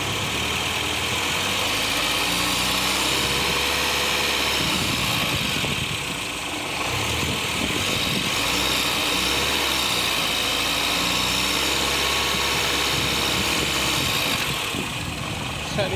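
A 1979 Porsche 924 engine runs steadily, loud and close for the whole stretch, with a throaty, vibrating idle that rises and falls as it is revved, alone without talk.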